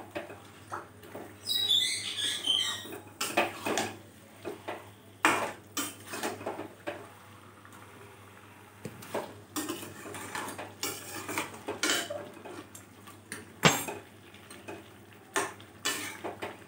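Chicken coated in masala is sautéed and stirred in a pan, giving repeated scraping and clinking of a spoon against metal over a soft sizzle. The strokes are close and rhythmic, with no talking.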